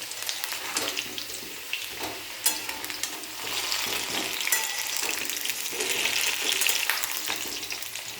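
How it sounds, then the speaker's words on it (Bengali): Potatoes frying in a pan, a continuous loud sizzle with periodic scraping stirs across the metal, close and steady throughout. "এরকম যখন লাল লাল হবে তখন আলুগুলো সম্পূর্ণ ভাজা হয়ে যাবে"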